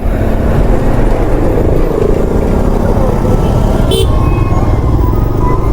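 Heavy road traffic in a jam on the Birgunj to Pokhara route in Nepal, heard from a TVS motorcycle: a continuous dense rumble of engines with a brief car horn sounding partway through.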